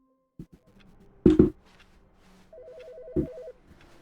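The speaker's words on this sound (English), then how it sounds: "Wait, a phone." A telephone rings in The Stanley Parable, a rapid warbling electronic trill lasting about a second, with a few sharp thumps and clicks around it.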